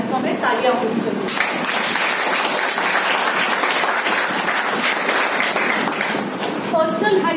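An audience claps loudly and continuously at a health awareness program in Boisar, Palghar, a dense applause lasting the whole stretch with some voices mixed in.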